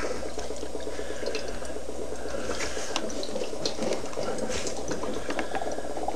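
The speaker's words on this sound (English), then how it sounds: "I'm already pushing in a lot of bubbles here." Bubbles are forced through water in a bottle on a bench test rig powered at about 10 volts and 20 amps, giving a steady, dense fizzing and gurgling that runs throughout at close range, with no talk.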